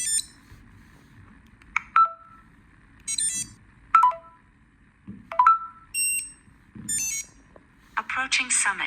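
Short electronic alert tones and chirps from the speaker of a Garmin Edge 1050 bike computer, sounding in separate bursts about once every second or so, with a denser burst of tones near the end.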